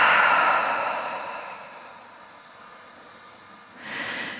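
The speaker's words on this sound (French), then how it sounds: "Ouvre la bouche, expire." A slow open-mouth exhale during Ujjayi breathing practice, a breathy sigh that is strongest at the start and fades over several seconds. A second softer breath follows near the end, with no talking.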